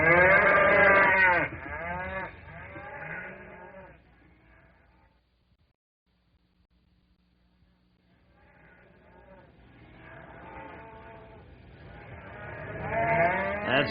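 Spooked cattle in corrals in a radio drama scene: loud, close lowing and bellowing fades to near silence, then a few calls build back to loud moos.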